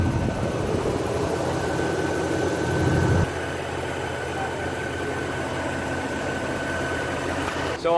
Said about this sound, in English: we're gonna let her idle for 15 minutes, and I want you guys to hear what she sounds like before and then after the fluid change